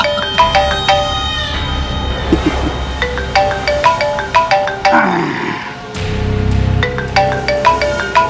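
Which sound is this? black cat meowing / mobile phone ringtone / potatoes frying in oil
mobile phone ringtone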